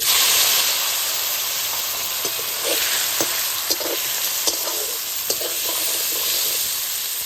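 Boiled taro frying in hot oil with bay leaves and whole garam masala, giving a loud, dense, continuous sizzle with intermittent scraping and tapping of a stirring spoon.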